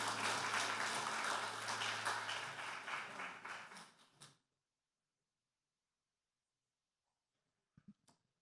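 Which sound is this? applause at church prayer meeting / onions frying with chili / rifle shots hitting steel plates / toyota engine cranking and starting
applause at church prayer meeting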